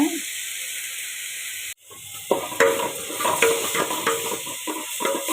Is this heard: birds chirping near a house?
no